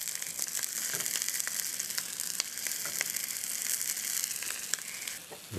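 Onion and pickle brown in a pan with a soft, steady sizzle and scattered crackling pops, fairly quiet and unbroken by speech.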